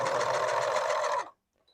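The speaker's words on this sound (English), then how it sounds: "I'm using a vintage sewing machine to sew all this down" A vintage sewing machine stitching down a knit hem, a loud, close, steady mechanical whirr with fast rhythmic needle pulses that runs for over a second and then stops abruptly, leaving near silence.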